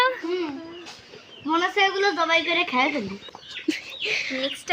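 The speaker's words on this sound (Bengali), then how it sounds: "এখানে অনেক বড় বড় মুরগি আছে" Large chickens cluck and call from close by, with people talking over and between the calls throughout.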